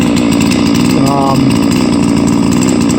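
A small 99cc chainsaw engine, a clone of the 660 platform, runs loud and steady nearby, a raspy continuous buzz with no revving.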